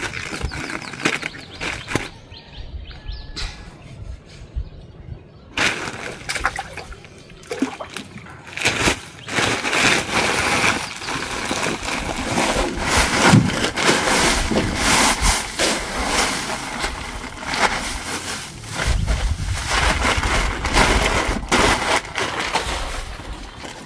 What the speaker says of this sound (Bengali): আমি এক ড্রামে 2 বস্তা খাবার ঢেলে দিলাম।